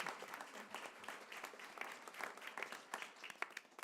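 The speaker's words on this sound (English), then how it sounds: "if we could give them a round of applause" Applause from the audience at a Board of Education meeting, honoring a speaker's parents: a dense, moderately loud patter of many hands clapping throughout, with a few sharper individual claps standing out.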